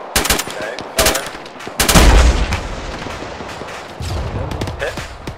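Gun firing at infantry about 310 meters away in a military operation, with several loud sharp blasts and a heavier booming report, followed by scattered rattling distant fire and background noise.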